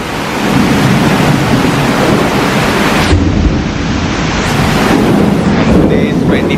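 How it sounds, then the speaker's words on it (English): Summer-solstice rainstorm with loud thunder rolling over steady heavy rain; a long rumbling crash swells early and a second burst follows near the end, all without talk. "The loud sound of the thunder and lightning."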